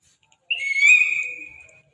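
A single whistle is blown once, a clear, shrill tone held for just over a second and heard alone against silence.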